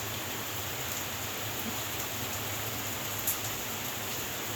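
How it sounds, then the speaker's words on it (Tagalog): Heavy rain falls steadily, a dense even hiss of constant loudness throughout, with no voices. "Sobrang lakas ng ulan dito ngayon"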